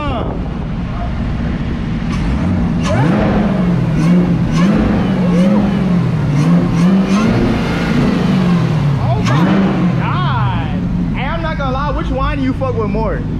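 Dodge Hellcat V8 on 275-width tires revving as it drives, a loud, wavering engine drone with rising and falling pitch under wind noise, while people talk over it inside the cabin.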